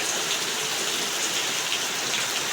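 Steady rain pours down in a dense, even hiss with no gaps, heavy and close by, and nobody speaks over it.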